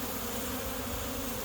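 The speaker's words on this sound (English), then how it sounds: "there are a ton of bees here" A dense, steady drone of honey bees fills the air at a hive in Portland during afternoon orientation flights, many insects humming at once close by, with no talking.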